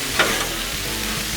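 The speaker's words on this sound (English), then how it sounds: "Let's give that shrimp a good mix." Shrimp sizzle steadily on a Blackstone griddle while being stirred, a continuous close hiss with brief scraping spatula strokes at the start and end.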